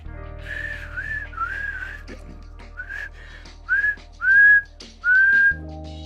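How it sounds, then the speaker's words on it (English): A person whistles several rising, pitched notes in short phrases during Pokémon Gen 3 gameplay, loudest near the end, over a steady low game hum. "Can I whistle?"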